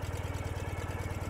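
A low, steady Ural motorcycle engine idle chugging in an even pulsing rhythm, close by and fairly quiet, with no voices over it.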